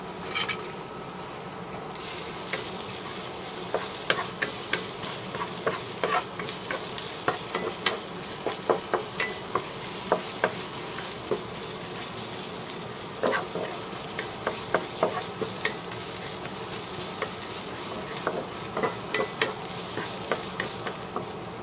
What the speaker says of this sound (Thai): โอเคแล้วเราก็จะเจียวให้หอมนะคะ